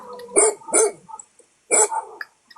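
Small dogs barking in two short bursts, a pair of sharp yaps followed by another after a pause, fairly close and loud with no talk over them.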